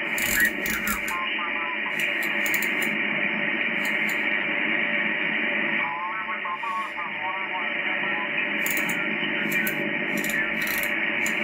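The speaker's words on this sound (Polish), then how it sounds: "Na razie gwizdy, świzdy." An Icom IC-M710 shortwave receiver tuned to the 80 m band in LSB gives steady whistling tones, hiss and garbled sideband chatter throughout, with bursts of crackle.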